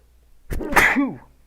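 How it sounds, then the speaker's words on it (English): A single close, forceful human sneeze with a short sharp intake leading into the burst, clearly audible in a quiet room with no talk over it. "I'm about to sneeze."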